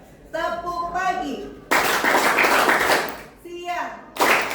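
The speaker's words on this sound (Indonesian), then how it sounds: "Oke, tepuk tangan." Bursts of loud, dense rhythmic clapping from a group of schoolchildren in a classroom alternate with short stretches of sing-song voices between them.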